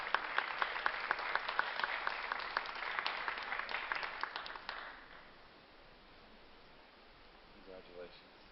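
Audience applause at the Santa Fe Indian Market 2015 Best of Show award ceremony, a dense burst of clapping for about five seconds that fades into quiet room tone, with faint voices near the end.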